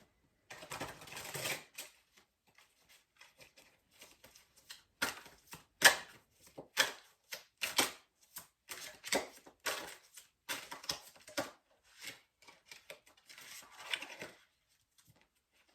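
Galactic Heritage oracle cards being shuffled by hand, a quiet, close series of crisp riffling snaps and soft slaps in uneven bursts with pauses between them.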